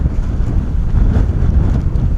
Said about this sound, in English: Super wet and windy.